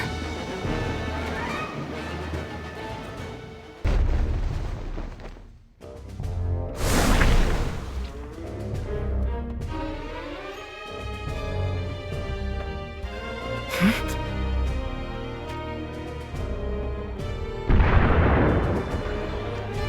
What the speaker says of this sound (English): Those are the sounds of Rundal cannons.